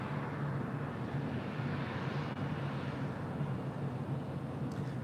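Asiana Cargo jet departing LAX runway 25 right, a steady broad engine roar at middle distance, constant and unbroken throughout.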